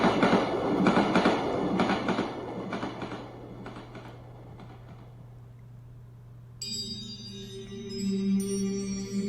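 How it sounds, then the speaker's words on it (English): A train ride in the video game Forest of the Drizzling Rain brings a steady rumbling carriage with rhythmic clattering that fades, then a soft tonal music cue enters near the end, with no talk. "And so now, I am swaying in this train"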